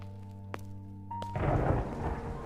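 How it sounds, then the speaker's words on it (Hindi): Cartoon-story sound effect of thunder and heavy rain: a low rumbling crack builds into a loud, steady downpour wash that fills the rest of the stretch, with no voices. "आसमान में बिजली चमकी और कुछ ही देर में तेज बारिश फिर शुरू हो गई।"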